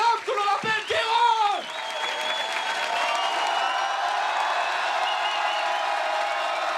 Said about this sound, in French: Gardez vos applaudissements pour l'homme que l'on appelle